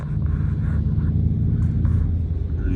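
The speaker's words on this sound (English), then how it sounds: "It gives you a fake, like an engine noise?" An electric Ford Mustang pulls away on a Kansas City street while its synthetic engine rumble plays, a steady low drone lasting a few seconds with light street noise and no talk.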